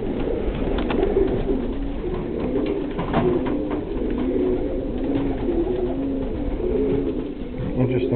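Gazzi Modena fancy show pigeons coo continuously at close range, soft rolling coos overlapping one another against a steady background hum.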